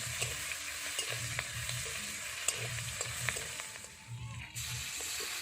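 Chopped green chillies frying in oil with cinnamon, cloves and bay leaf in a pan for egg curry, a steady close sizzle with repeated stirring scrapes and a brief dip near the end.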